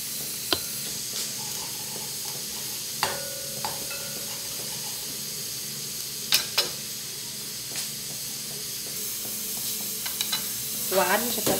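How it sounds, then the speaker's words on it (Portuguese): Garlic frying and browning in a pan, with a steady low sizzle under scattered sharp clicks and scrapes of stirring, close and fairly quiet throughout. "O alho já tá ficando bem douradinho, eu gosto que fica assim, ó, douradinho."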